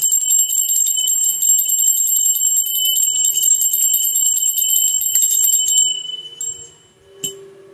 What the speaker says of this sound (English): I got to jingle, clank, ring the bell to get my human out of the way.